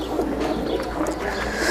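Pigeon cooing inside its cage, soft low coos repeating close by against faint background noise.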